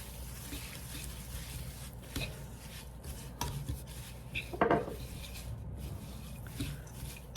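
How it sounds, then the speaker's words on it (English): Granola ingredients for a soft, chewy lemon blueberry granola being stirred together in a bowl, with close scraping, rubbing and a few light clinks over a steady quiet background. "we are gonna just kind of mix all of this together"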